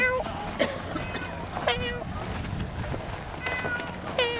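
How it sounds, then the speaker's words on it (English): A friendly street cat at Ephesus, Turkey, meows several times at close range, with short separate calls spread across outdoor background noise. "It's a very friendly cat right there."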